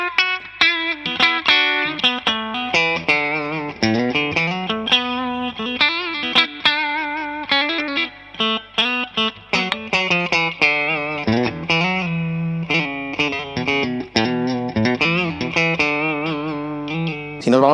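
Distorted electric guitar, a Mexican-made Fender Telecaster Player HH, played as a continuous bluesy passage of chords and single notes with effects and slight reverb, loud and alone without talk.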